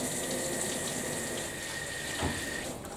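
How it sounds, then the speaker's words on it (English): Tap water running into a bowl to wash rice, a steady close splashing rush with a brief heavier gush toward the end. "So I place water in it and I just give it a quick wash."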